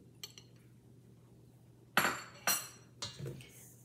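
A utensil clinks against a bowl while beaten eggs are mixed into low-carb deep dish pizza dough of coconut and almond flour; a few faint taps, then three sharp, close scraping knocks spaced about half a second apart.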